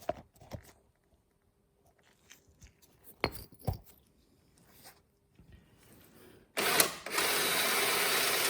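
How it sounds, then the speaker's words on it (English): A power drill whirs loudly and steadily from about 6.5 seconds to the end, up close, after a stretch of scattered handling clicks and knocks near a Honda inverter generator. "and then run the drill and do that"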